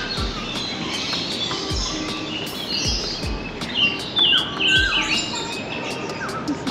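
Birds chirp and tweet in Hong Kong Park's botanical gardens, a steady chorus of short, bright calls from several birds at moderate distance, with a few louder, nearer calls toward the end.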